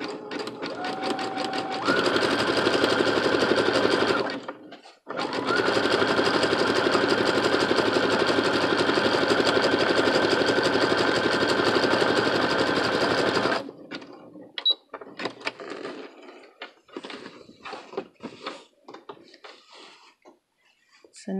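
A sewing machine with a presser foot sewing a long 3.0 stitch over braiding, running loud and steady in two long bursts separated by a brief stop, then quieter handling noises afterward.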